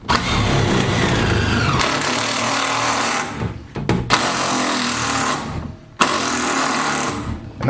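Cordless power tool on a dying battery while fastening subflooring, whirring in strained bursts that sag and cut out, with short gaps between pulls, close and loud.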